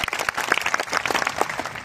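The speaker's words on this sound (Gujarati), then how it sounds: "એમની માટે એકવાર જોરદાર તાળીઓના ગણગડાટ સાથે વધાવી" An audience at a Koli Thakor community convention in Vinchhiya bursts into dense, loud applause, a brief sustained wash of many hands clapping.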